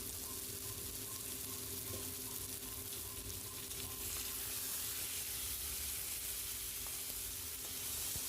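Koi fish fry in hot oil in a pan with a few whole green chillies, giving a steady, dense, close sizzle that holds evenly throughout and grows slightly louder partway. No one speaks.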